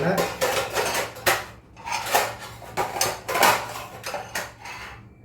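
Pots and pans are washed with Vim bar soap, the metal clanking and knocking in a quick, uneven rhythm, loud and close, with no talking.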